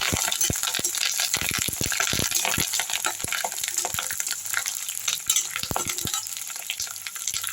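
Curry leaves spitting and crackling in hot oil left over from frying cauliflower pakoda, a dense continuous sizzle with sharp pops throughout, close and fairly loud.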